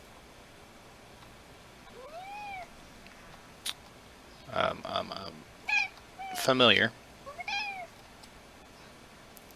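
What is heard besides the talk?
pet cat meowing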